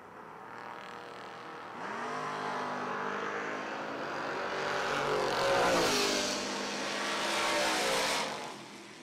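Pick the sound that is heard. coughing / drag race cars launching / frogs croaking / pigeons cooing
drag race cars launching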